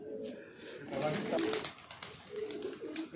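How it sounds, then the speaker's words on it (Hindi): Punjabi and Madrasi pigeons coo in low, soft rolling phrases, repeated a few times close by, with a voice talking over them. "नए पंजाबी कबूतर भी हैं इसमें"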